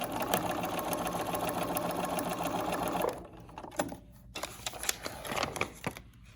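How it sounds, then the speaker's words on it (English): Sewing machine stitching a paper-pieced quilt block, a fast steady mechanical whir for about three seconds, then slower intermittent stitches and clicks up close. "Now I'm going to sew right on the line at the bottom"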